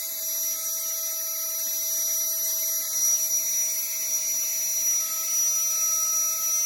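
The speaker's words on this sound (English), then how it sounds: "As you can see, it's starting to work. It's by no means as impressive deflating and certainly not as fast as a full Hoover" A Flextailgear Tiny Pump 2 electric mini air pump runs while deflating, a steady high-pitched whirring hum with tonal whine, close and continuous with no speech.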